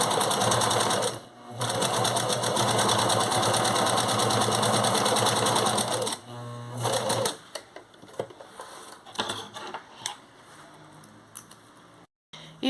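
A sewing machine stitches a fabric seam for an inside finish without an overlocker, running loud and continuous at first, then in short stop-start bursts of stitching.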